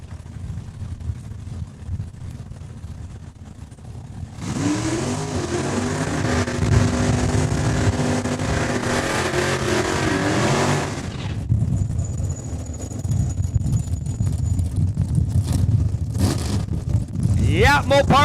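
Drag racing cars accelerating hard down the strip at Saskatchewan International Raceway, a loud, roaring engine burst lasting several seconds before fading, with crowd and track ambience and a commentator's voice around it.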